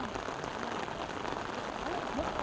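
Steady rain falls on a village with a single-log footbridge, a dense, even hiss of drops on surfaces that continues for the whole stretch at moderate loudness, with no voices.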